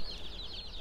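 Cornish Cross chicks in a brooder peep in quick, high, overlapping chirps, a soft close chorus in a very short burst.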